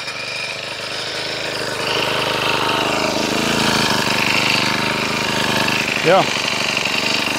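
Mantis 7940 four-stroke garden tiller engine running steadily nearby, a continuous mid-pitched drone that swells slightly partway through, with a brief spoken word over it.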